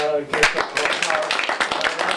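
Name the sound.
audience applause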